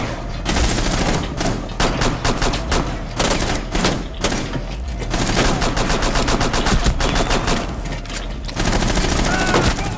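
Rainbow Six Siege gunfire fills the scene in loud, rapid automatic bursts, with dense runs of shots broken by short gaps and a heavier sustained stretch toward the end.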